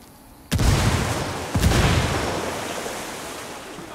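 Two heavy blasts of a grenade explosion and gunfire in the Ghost Recon Wildlands video game, each a sudden loud boom about a second apart, followed by a long rumbling decay that fades slowly.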